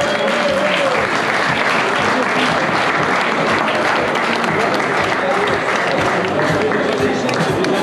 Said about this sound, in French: Un grand retour d'applaudissements pour tous nos sponsors.